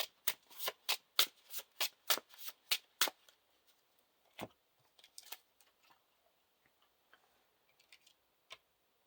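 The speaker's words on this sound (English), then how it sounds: "shuffle another Eagle of the North into the encounter deck" Playing cards being shuffled into an encounter deck for the Lord of the Rings card game, a rapid run of crisp riffle snaps for about three seconds, then a few scattered soft taps and card slides, close and alone.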